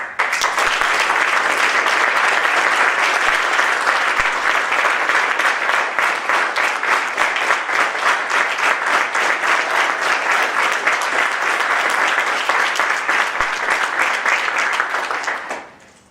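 A conference audience at the DrupalCamp Mures 2013 closing session claps for the sponsors and organizers, sustained, even applause from many hands that holds steady throughout and fades out at the very end.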